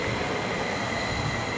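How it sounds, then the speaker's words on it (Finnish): A train pulling into a station platform, a steady loud rumble of rail cars and wheels with a faint high whine above, continuous and close throughout with no voices. "niin tulee juna"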